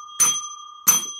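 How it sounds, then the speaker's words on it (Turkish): Two bright rings from a tabletop tap bell pressed during a colorful cup-stacking game at home, each a sharp strike with a ringing tail, about two-thirds of a second apart and with no talk. "kazanan hemen zile basıyor değil mi Lina'cığım?"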